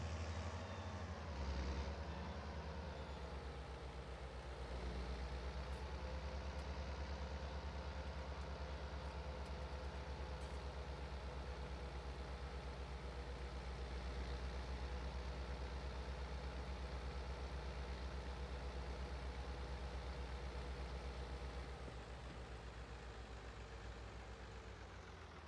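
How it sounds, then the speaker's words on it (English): Tractor engine idling in Farming Simulator 22, a steady low rumbling drone with constant hum, faint and unchanging over a long stretch. "now we got us a tractor with a trailer out here ready for the combine to empty"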